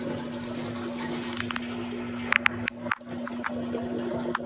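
Water draining through the pump of a faulty Samsung washing machine that keeps tripping breakers, a steady close rushing wash with a constant low hum and a few clicks and knocks.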